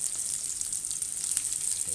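Onions sizzle in a very hot pan, a steady bright frying hiss with faint crackles running throughout, fairly quiet and close, with no voices.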